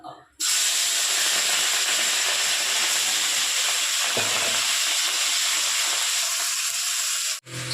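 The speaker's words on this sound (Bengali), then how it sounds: "লাল লাল করে মাছটাকে ভেজে নিয়েছি।" Small fish sizzle and crackle steadily in hot oil in a pan, a continuous bright hiss filling the whole stretch with no talking.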